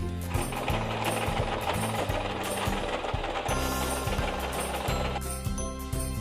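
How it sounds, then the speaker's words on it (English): A sewing machine stitches steadily around a fabric stocking with red fur trim, its motor and needle running in a continuous mechanical whir over a background of soft music. "Sew all the way around, stopping before the red fur."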